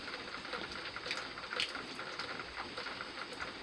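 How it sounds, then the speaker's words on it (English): Steady, soft rain falling all day, heard from a porch: a continuous, even hiss of drops with faint irregular patter, moderately quiet and unbroken, with no voices over it. "it's been raining all day."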